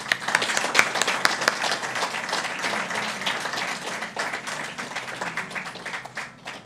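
A room full of people applauds to welcome a guest at a Sunday evening talk, dense scattered clapping sustained for several seconds at moderate level with no voices over it.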